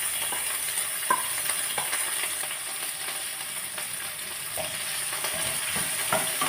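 Mustard seeds sizzle and crackle in hot oil for a fish curry, a steady frying hiss with occasional sharp pops and stirring, no voices over it.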